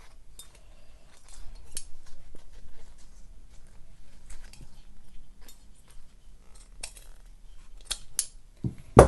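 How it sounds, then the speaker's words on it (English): Scissors snip through a length of waistband elastic while sewing trousers, giving a run of quiet, scattered cuts and clicks close by, ending in a sharper, louder clip of the blades. "so I can just now cut that elastic off."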